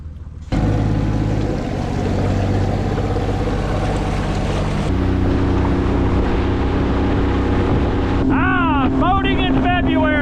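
A small motorboat runs on the open ocean in February, its engine droning loudly and close under heavy wind buffeting, the pitch shifting as it changes speed, with rising whining tones near the end.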